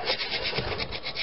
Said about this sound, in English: Using a wood chisel for a gasket scraper works perfect.